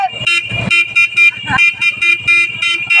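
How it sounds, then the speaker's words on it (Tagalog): Repeated short vehicle horn blasts in a steady rhythm during a school parade, loud and close, with some voices and traffic noise mixed in. "Busina."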